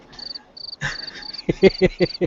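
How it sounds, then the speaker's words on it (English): Crickets chirp in short high trills, first alone and then over a run of rhythmic low knocks or pulses, fairly quiet and close. "we have crickets. We've got low down crickets."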